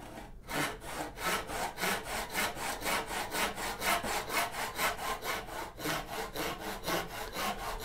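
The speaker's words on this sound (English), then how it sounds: "Because that pin, that knife cut is the first cut of the saw." Hand saw cutting a half lap joint in wood, with steady rhythmic rasping strokes at about three per second, close and alone.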